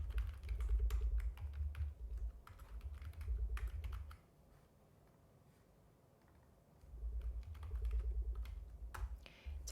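Rapid keyboard typing close up, bursts of clicking keys separated by a quiet pause in the middle, then more quick keystrokes.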